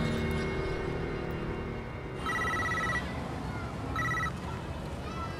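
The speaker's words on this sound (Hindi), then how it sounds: "खान को फोन लगाओ।" A phone rings twice in short electronic trills, a pause between them, over a low steady background hum, in a Hindi-language crime drama scene.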